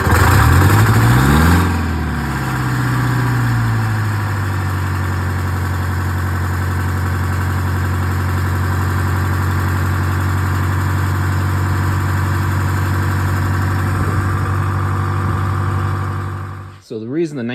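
An overhauled Oliver 1950 tractor engine cranks briefly and catches, then settles into a steady, loud, low-pitched idle that runs on evenly before shutting off.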